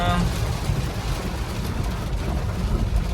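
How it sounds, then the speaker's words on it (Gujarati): Heavy rain driven by strong wind, heard from inside a vehicle with the wipers running, forms a loud, dense, continuous roar with gusty rumbling throughout. "મિત્રો અચાનક જ વરસાદ ચાલુ થઈ ગયો છે"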